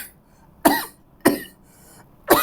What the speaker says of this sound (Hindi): बीच में हो जाता है खांसी थोड़ा